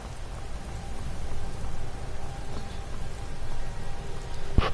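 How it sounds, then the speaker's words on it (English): Steady rain falls in the Skyrim video game, a continuous dense patter of drops on surfaces with no voices, closing with a sharp brief tap near the end. "this is the first time it's rained in the game"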